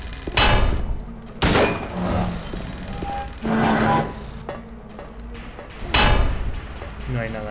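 Gunshots fired at Pyramid Head in the Silent Hill 2 video game: loud, heavy booming shots at irregular intervals, with game noise and rumble between them.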